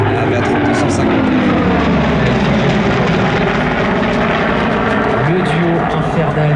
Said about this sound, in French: deux avions iconiques, en bleu le F4 Corsair, en chromé le P38 Lightning